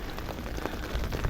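Rain falls steadily on potted succulents on a rooftop during windy weather, a dense, even patter of drops hitting the pots and leaves up close.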